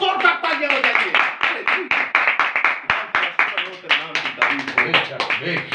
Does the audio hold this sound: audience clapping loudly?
yes